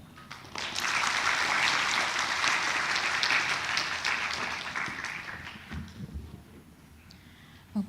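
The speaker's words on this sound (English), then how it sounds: "So I think the last applause is also concluding applause for all the four speakers" Audience applause closing the talks at an international seminar on school lunch programs in Southeast Asia. The clapping swells quickly, holds steady and dense for several seconds, then thins out and fades near the end.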